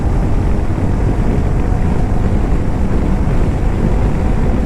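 A Royal Enfield Himalayan motorcycle cruising at about 100 km/h produces a loud, constant roar dominated by heavy wind buffeting on the microphone, with no voices.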